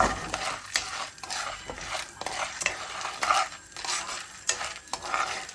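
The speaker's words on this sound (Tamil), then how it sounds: "நல்லா பட்டரில் சோளத்தை கொஞ்சமாக பிரட்டி விடணும்" Corn kernels being tossed and roasted in butter in a pan, with continuous close scraping and stirring strokes over a light sizzle and a few clinks of utensil on metal; no voices.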